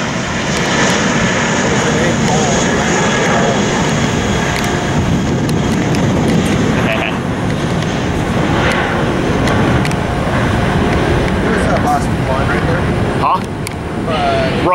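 Loud, steady Airbus jet engine roar fills the air near an airport, a broad rushing drone with faint voices talking underneath.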